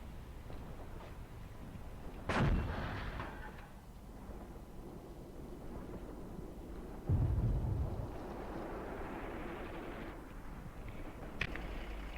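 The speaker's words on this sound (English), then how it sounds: "Our howitzer is actually still up, even though most of the crew are dead and it's heavily damaged, and it is shooting from time to time." A damaged howitzer fires in the World War II combat game Graviteam Tactics, set at Kharkov 1942: two heavy distant booms with rumbling tails rise over a low ambient battlefield rumble, with a fainter crack near the end.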